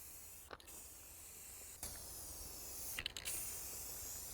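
Lacquer sprayed from a can over a stained wooden picture frame, in three short hissing bursts spaced across the stretch, close by and fairly faint against a quiet room.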